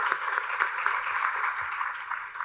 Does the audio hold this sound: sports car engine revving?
no